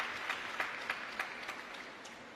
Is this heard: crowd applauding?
yes